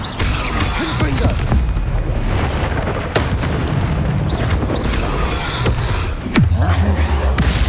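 A Confringo blasting spell detonates in Hogwarts Legacy during a spell-heavy fight, deep booming explosions rolling continuously with bursts and crackles, and a voice shouting spell names over the din.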